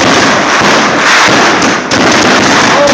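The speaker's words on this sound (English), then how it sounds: "Now that was an explosion." A loud, sustained barrage of firework bursts at a fireworks show, dense crackling and booming blasts close by with brief dips, filling the whole clip without talk.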